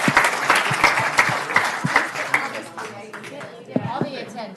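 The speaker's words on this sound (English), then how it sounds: "Can we have an applause for our one tonight" Audience at a city council meeting giving a round of applause, a burst of fairly close clapping that thins out and fades, with a few voices speaking over the tail end.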